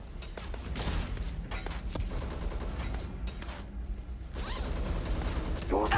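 Video game gunfire comes in dense rapid bursts and scattered shots with mechanical clatter over a busy combat soundscape, moderately loud and continuous throughout.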